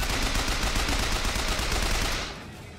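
Rapid gunfire in the first-person shooter Bioshock Infinite: a dense, loud burst of automatic shots in fast succession that cuts off near the end, leaving a brief fading tail.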